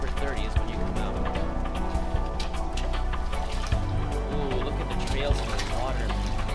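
Water in the Final Fantasy XV Platinum Demo video game splashes and trickles with soft dripping and pouring textures. It sits under music and nearby talk.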